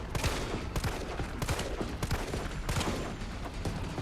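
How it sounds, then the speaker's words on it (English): Rapid gunfire from the Resident Evil 3 Remake video game, a dense run of loud, sharp shots, some overlapping, with a steady rumble behind them and no talk. "And then I'll take some more shots at him."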